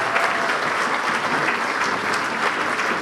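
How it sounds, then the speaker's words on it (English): Sustained applause from an aerospace awards audience at an aero club ceremony, many hands clapping in a full, even roar that continues without a break. "Another round of applause"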